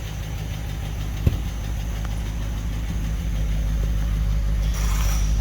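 A Packard car engine, fitted with an Alloyworks radiator, idles steadily up close. It gives a low, even rumble with one sharp click partway through.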